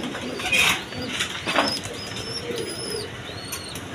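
Indian Bombay pigeons, a pair kept with two chicks, give soft low coos close by, mixed with brief high chirps over a constant hissing background.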